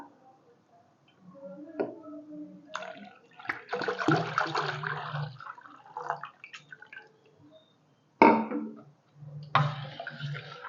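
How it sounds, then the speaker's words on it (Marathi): Cold water glugs and splashes from a one-litre bottle into a container of mango juice mixture in uneven bursts, with short pauses between pours, close and moderately loud. "मी एक लिटरची बॉटल आता घेणार आहे आणि ती ओतणार आहे बघा"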